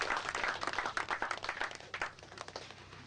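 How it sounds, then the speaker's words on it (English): Race riders at a Sunday rider's meeting applaud themselves, a brief burst of scattered clapping with uneven, fairly dense claps throughout. "Give yourselves a big round of applause."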